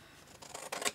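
Scissors snipping across an A4 sheet of paper at a crafting table, a few close, crisp cuts that build toward the end of the short moment, with no talking.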